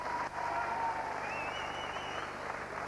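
Crowd applause at a professional wrestling match, a steady broad wash of clapping held at an even level throughout, with a faint whistle-like tone rising partway through.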